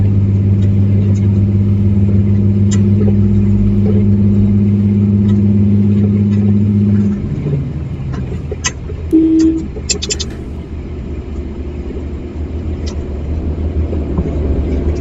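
A truck engine in Euro Truck Simulator 2 drones steadily and loudly, then drops to a lower, rougher rumble partway through, with scattered clicks and knocks continuing at a constant level.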